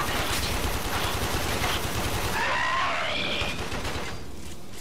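Rapid gunfire from the video game Warframe, a dense continuous burst of automatic fire with game effects layered in, loud and sustained before easing off near the end.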